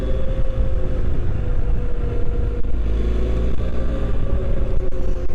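A motorcycle ridden on a chilly, sunny winter day, its engine droning steadily and loudly from close by, with broadband wind rush over the whole stretch and no voices.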